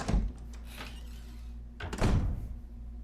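A door in the Resident Evil remake swings open with a heavy thunk, followed about two seconds later by a second, louder thud, over a steady low game hum.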